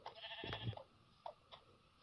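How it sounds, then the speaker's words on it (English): Several sheep bleat in a blocky survival video game, a longer bleat near the start followed by short, quieter calls spaced out over ambient game background, with no talking. "3 sheep, exactly at my spawn."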